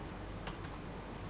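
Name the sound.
typing on a computer keyboard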